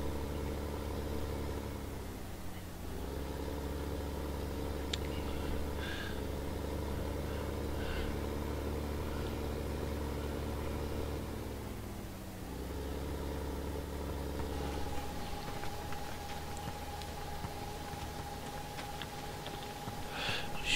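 A tractor engine in a farming video game idles and revs with a steady low drone, dipping briefly twice and then settling into a smoother hum with a faint whine, heard on its own.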